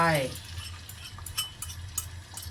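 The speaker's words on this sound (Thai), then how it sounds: "ผัดข้าวกับไข่ก่อนจ้ะ" Rice and egg stir-fried in a pan for tuna kimchi fried rice: a soft, steady sizzle with light spatula scrapes and clinks, preceded by a brief voice at the start.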